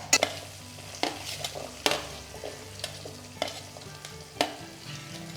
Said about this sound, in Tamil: எண்ணெய் காஞ்சிருச்சு, உளுந்தம்பருப்பு போட்டிருக்கேன்.